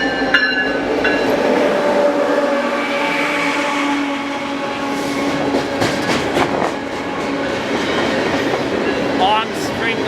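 A Union Pacific freight train led by an ACe locomotive rolls past with boxcars, a few lumber cars and a long string of tankers, wheels clicking rhythmically over rail joints, with brief squeals and steady rumbling close by.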